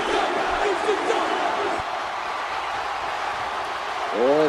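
Wrestling arena crowd in WWE 2K23 during an NXT face-to-face in the ring, a loud sustained roar and chatter of spectators filling the space, with faint cheers rising throughout.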